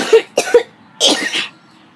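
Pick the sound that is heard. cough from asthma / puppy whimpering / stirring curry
cough from asthma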